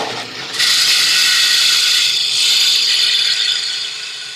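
A gouge cutting away the bulk of wood from a lidded box spinning on a lathe gives a loud, steady rasping chatter that holds for several seconds after a brief quieter start.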